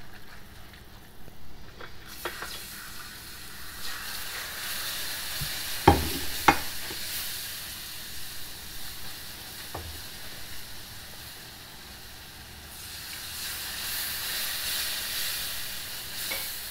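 A flour and oil roux cooks toward dark brown for chicken bacon mac and cheese, softly sizzling and hissing while being stirred, with a couple of sharp utensil knocks and a louder steamy hiss near the end.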